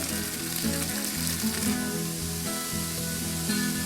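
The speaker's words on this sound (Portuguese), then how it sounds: "E agora nós vamos adicionar a nossa carne de sol para refogar." Carne de sol, sun-dried beef, sizzles in hot oil in a pan, a dense continuous frying crackle close up and alone, with occasional stirring.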